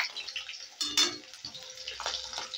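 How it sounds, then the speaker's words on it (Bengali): Ten to twelve garlic cloves and four slit green chilies fry close up in a pan, giving a steady sizzling hiss that swells in short bursts, with no talk. "এবারে ভেজে নেব রসুন। এখানে আমি 10-12টা রসুনের কোয়া নিয়েছি। একই সঙ্গে ভেজে নিচ্ছি কাঁচা লঙ্কা, 4টে চেরা কাঁচা লঙ্কা নিলাম।"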